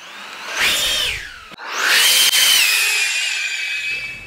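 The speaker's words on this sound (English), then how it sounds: "You can fly the Nano Tornado off of man-made surfaces." A Nano Tornado camera drone flies close by, its small rotors giving a high, sharp whine that swells, dips briefly, then rises again and holds steady with a shifting pitch.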